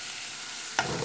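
Onion sautéing in olive oil for collard greens crackles in a brief, even hiss, then flares into a sharper sizzle near the end.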